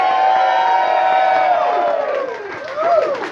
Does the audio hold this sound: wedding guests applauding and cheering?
yes